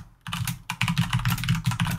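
Vim keystrokes are typed on a computer keyboard, a close, brisk run of clicky key presses after a short pause, continuing steadily to the end.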